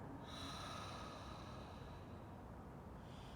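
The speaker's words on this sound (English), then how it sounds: "Inhale through the nose. And take an audible exhale through your mouth." Audible mouth exhale during a yoga breathing practice, a breathy, noisy rush of air lasting a few seconds at close range, with no talking.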